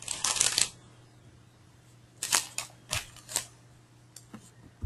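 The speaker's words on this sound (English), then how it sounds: "Now I will type a sentence." Keys tapped on a computer keyboard while entering a Maven command, a quick burst of clicks followed by several sparse, separate keystrokes at close range with a low electrical hum beneath.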